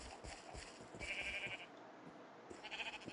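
Sheep bleat in the Astro video game, two clear cries over a busy background of game sounds and soft repeated thumps.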